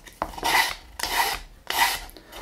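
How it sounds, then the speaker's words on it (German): Sandpaper rubs along wooden edges in three steady rasping strokes at an even rhythm. The strokes are close and moderately loud, with no talking. "ihr müsst nur so ein ganz kleines bisschen mit dem Schmirgelpapier die Kanten abmachen"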